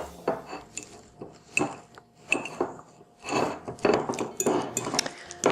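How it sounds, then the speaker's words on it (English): Ripe bananas mashed with a fork in a bowl, with repeated rhythmic scraping clinks of metal against the dish, close and fairly loud, with no talking. "Okay, so just mash them with a fork."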